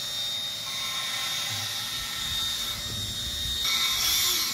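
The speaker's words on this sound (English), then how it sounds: "We're lapping valves" Valves being lapped by hand on a 5.9 Magnum cylinder head, giving a steady, close gritty grinding and scraping that runs the whole time with no talk.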